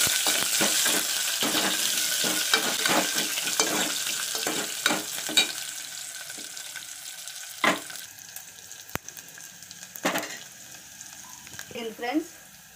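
Curry leaves and sliced onion fry in hot oil with dried red chillies for a Telugu tamarind stew, a steady sizzle broken by repeated scraping stirs of a spoon against the pan, with a few sharp clinks near the end.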